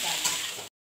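Potatoes frying in hot oil in a kadhai, a close steady sizzle with a hissing crackle that cuts off abruptly after under a second.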